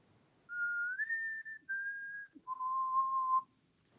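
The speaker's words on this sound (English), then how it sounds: "I can whistle." A person whistles a short tune alone, four sustained clear notes with a brief pause before the lower final tone, close and fairly loud over a faint hum.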